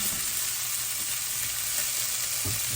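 Onions, peppers and garlic sizzle steadily in a hot pan while being stirred for shakshouka, a continuous close frying hiss with a few soft scraping stirs near the end.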